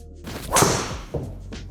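A Cobra Aerojet driver strikes a golf ball once, giving a sharp, loud impact followed by a brief swishing tail and a fainter knock a moment later, with no voices.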